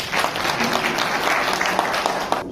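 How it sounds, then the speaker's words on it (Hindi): An audience gives loud, sustained applause at the inauguration of a new emergency block at Civil Hospital Dalhousie. The clapping is close and dense, with a few sharper individual claps standing out before it thins at the end. "एक बार जोरदार तालियां हो जाए।"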